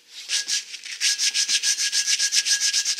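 Rhythmic back-and-forth sanding strokes, about six per second, scrape steadily across the chrome of an old mag wheel close by, with no talking.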